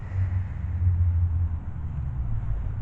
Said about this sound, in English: Somebody's got a loud car.